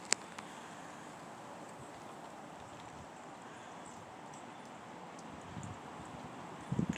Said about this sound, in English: the gusts of this wind that we are once again having to endure here